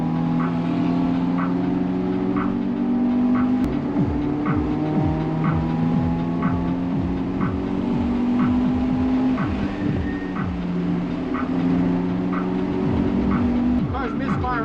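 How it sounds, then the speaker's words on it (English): A Toyota GR86 engine misfires at a race track, its uneven, stumbling drone repeating with rhythmic stutters and pulses, loud and close, while other cars' engines sound around it. "Car's misfiring."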